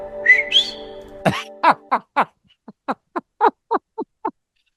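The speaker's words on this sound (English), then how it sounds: "a little Mexican whistle." A person whistles a short tune up close: a rising slide, then a quick series of crisp, evenly spaced notes that trail off.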